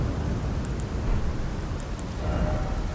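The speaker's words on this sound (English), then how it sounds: "Calls down the red lightning of the ancient dragons to strike a target." Red lightning of ancient dragons strikes in Elden Ring: Shadow of the Erdtree, heard as a loud, sustained crackling rumble with a few faint high chimes, no talk over it.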